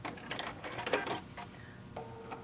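A sewing machine stitches a quarter-inch quilt seam in short, quiet bursts of rapid mechanical whirring with brief pauses and clicks between runs.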